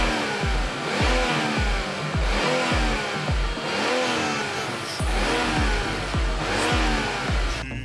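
BMW Z4 convertible's 2.0-liter turbocharged four-cylinder engine revving up hard through repeated rapid gear changes, each pull rising in pitch and cutting off sharply, loud and close.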